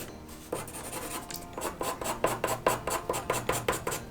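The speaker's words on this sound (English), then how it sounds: "Kind of fun the way you can hear the pencil move." A pencil scratches quickly back and forth on paper in a steady, rhythmic series of short, quiet strokes.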